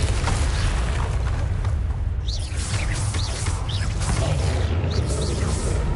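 Confringo, a fire explosion spell in Hogwarts Legacy, goes off in a loud, dense roaring burst, with whooshing swirls and rumbling blasts layered over a continuous heavy rumble.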